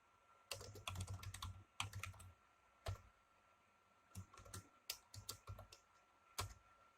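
Fingers typing on a computer keyboard, quick bursts of close crisp key clicks separated by short pauses, in a quiet room with no talking.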